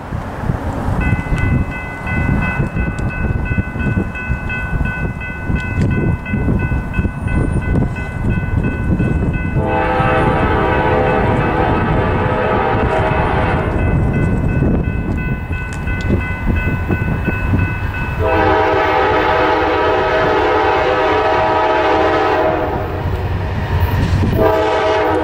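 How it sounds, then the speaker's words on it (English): A southbound auto rack freight train speeds past the Jones Mill Road grade crossing, its steady rumble and wheel noise running throughout while the horn sounds in two long, loud blasts. "a southbound auto rack and bear table train, speeds past the Jones Mill Road grade crossing"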